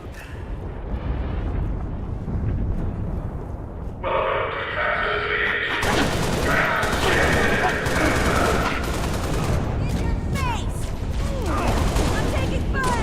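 Sustained gunfire and explosive bursts in the Halo video game, loud and dense throughout, with a heavier barrage beginning partway and continuing under occasional voices.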